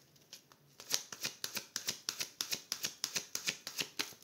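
Tarot cards shuffled and cut by hand, a quick run of about a dozen crisp, evenly spaced riffling snaps after a couple of softer taps, close and clear with no talking.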